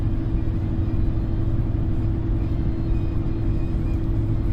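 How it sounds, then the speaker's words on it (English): Steady low rumble and drone inside a 2008 Chevrolet Silverado 2500HD 6.6L diesel 4x4 driving at highway speed with a tire vibration, a continuous loud hum filling the cab with no talk. "we have a big tire vibration or something that's down here"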